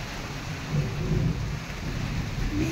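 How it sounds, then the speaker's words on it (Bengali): Deep thunder rumbles steadily through heavy afternoon rain falling on a rooftop, a continuous broadband wash of rain with low rolling swells of thunder and no voices. "মেঘ ডাকছে বেশ ভালো।"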